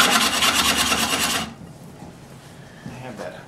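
A lathe tool cuts into solid wood during multi-axis woodturning, making a loud rhythmic rasping scrape for about a second and a half before the cut stops and only quieter workshop noise remains.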